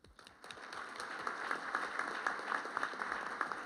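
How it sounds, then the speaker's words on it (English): An audience at a Detroit Economic Club senatorial debate claps, a faint, steady patter of applause that swells slightly and continues throughout. "You can applaud."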